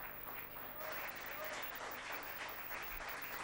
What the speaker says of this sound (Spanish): ¿Puedes darle un fuerte aplauso?